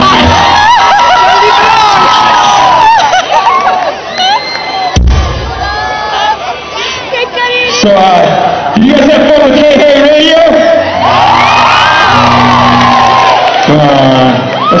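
A concert crowd cheering, whooping and shouting loudly and continuously at a live show, with someone talking over the roar from the stage.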